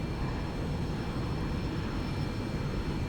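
Steady broadband aircraft engine drone from a plane in the X-Plane 11 flight simulator, a continuous even rumble with faint high whine, no talking.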